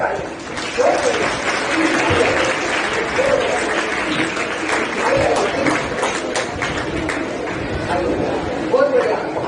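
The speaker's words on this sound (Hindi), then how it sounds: "सबके लिए जोरदार ताली" An audience applauds children on stage at a campus career counselling program, with loud sustained clapping throughout and voices mixed in.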